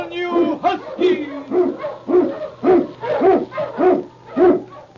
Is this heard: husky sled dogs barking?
yes